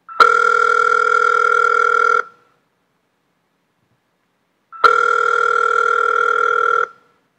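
A telephone rings in two long electronic bursts of about two seconds each, separated by a silent gap, loud and close with no voices.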